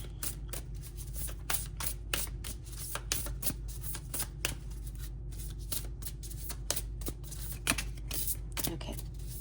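Tarot cards shuffled by hand close up, a rapid series of crisp riffling flicks and soft slaps repeating steadily over a low background hum, with no voices.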